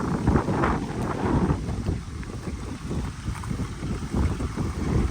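A tractor pulling a rotary mower drives out to a mowing job, with a continuous engine rumble heard through heavy wind buffeting on the microphone.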